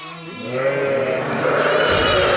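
A Kangal Akkaraman ewe in a lambing pen gives a loud, sustained bleat at close range, holding steady throughout with a rough, wavering tone.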